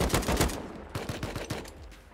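Bursts of automatic gunfire from an AK rifle in the survival game Rust, rapid cracking shots in quick clusters, loud and close, with a few sparser shots trailing off.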